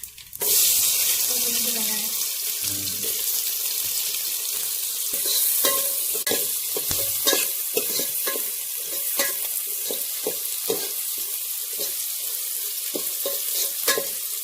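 Mustard seeds, fennel and sliced onion fry in hot oil for an egg curry, a steady loud sizzle with scraping stirs and small pops throughout, close up and without talk.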